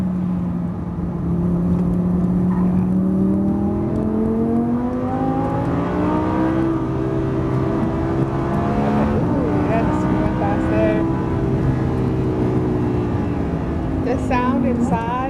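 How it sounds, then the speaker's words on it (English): Lamborghini Huracan engine heard from inside the cabin, rising and falling as it revs through turns, with a few sharp exhaust crackles and pops toward the end. "It's like this crackle whenever we come up to the turns."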